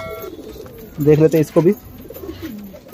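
Desi high-flyer pigeons cooing close by, a couple of short throaty coos in the middle, with a voice speaking briefly around them.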